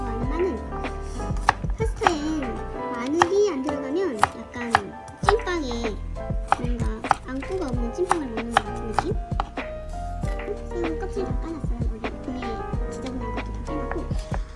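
A knife chops food into four pieces on a board while making shrimp pasta, with quick, close, uneven cuts in rapid bursts under a speaking voice.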